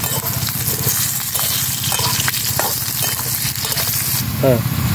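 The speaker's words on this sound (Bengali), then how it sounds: "কেটে রাখা আলু একটু লাল লাল করে ভেজে নেব।" Steady, fairly loud sizzle of cut potatoes frying in oil with cumin and a whole dried red chilli in a pan, with occasional stirring scrapes and a voice talking over it.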